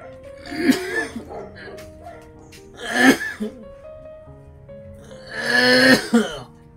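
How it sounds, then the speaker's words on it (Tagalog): Three bursts of coughing spaced a few seconds apart, fairly close, from a person coughing while drinking, with background sounds and faint tones between them. "Pag umiinom ka, umuubo ka."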